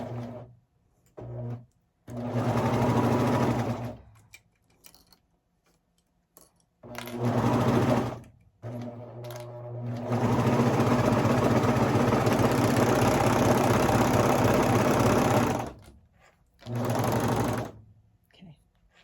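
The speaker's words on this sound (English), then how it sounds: "we are sewing on the Babylock Vibrant. This is a very basic entry-level serger machine" A Babylock Vibrant entry-level serger sewing baby leggings runs in several bursts, a steady close mechanical whir and rapid needle chatter, with the longest run lasting several seconds between short pauses and a voice speaking now and then.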